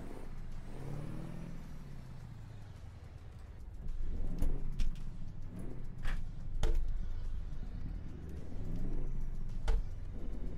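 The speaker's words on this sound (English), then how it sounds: "Sounds an interesting engine." Truck engine in American Truck Simulator driving on a Mexican map mod: a low diesel drone that rises and swells as it revs through gears, with sharp clicks and hisses, faint and steady throughout.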